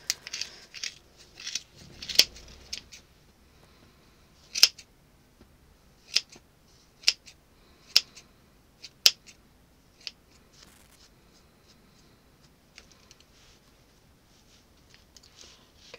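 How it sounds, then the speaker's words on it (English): Scissors snipping through wrapped yarn on a finger-wrapped pom pom, a series of sharp, close crisp cuts spaced irregularly with quiet gaps between, no talk. "we're going to go through now and just cut through the middle"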